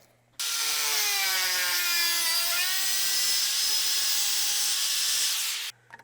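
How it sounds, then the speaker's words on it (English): A power tool cuts a three-inch line in a piece of sheet metal for hot rod louvres, giving a loud, sustained high-pitched whine that starts abruptly, holds steady for about five seconds, then stops. "We're going to cut a 3-inch line in this piece of sheet metal"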